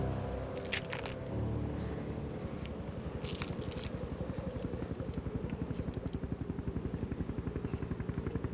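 Helicopter passing overhead in the wild, a steady rapid rotor chop thumping throughout and growing more distinct, with brief clicks and rustles near the microphone at the start.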